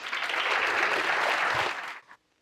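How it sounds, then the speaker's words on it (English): Conference audience applauding before a keynote, a dense steady wash of clapping lasting about two seconds then cutting off abruptly. "So can you please give a warm applause"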